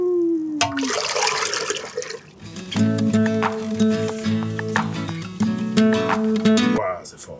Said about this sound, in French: en brassant comme ça, en agitant, puis en faisant rentrer des bulles, ben ça fait oxygéner l'eau